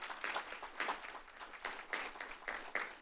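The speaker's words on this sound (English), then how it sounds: "Another applause for that." Quiet applause rises and falls in uneven bursts from a university faculty and staff assembly audience at Fresno State, heard at a moderate distance in a large hall.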